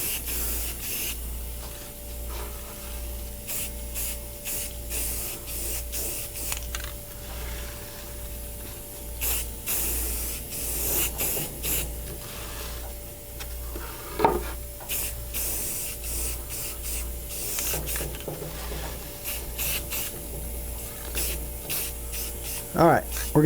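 Spray paint hisses onto a carved cedar eagle in repeated short bursts with pauses between them, the black coat applied close up, alongside faint rubbing and handling noises.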